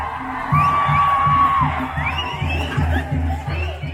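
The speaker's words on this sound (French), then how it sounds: "instantanément, il y a une foule avec la musique" A lively street crowd at Dia de Muertos in Oaxaca cheers and shouts continuously, with a long whistle-like tone early on, whoops rising above the din and a steady rhythmic musical beat pulsing underneath, loud and close.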